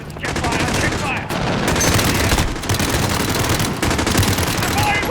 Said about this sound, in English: They're firing on civilians!